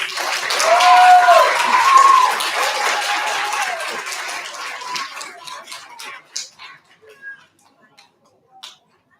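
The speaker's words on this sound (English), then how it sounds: "Give a final round of applause." Applause from students and families at an elementary school recognition ceremony, a steady dense clapping that swells then thins out, fading into a few scattered claps and near-silence.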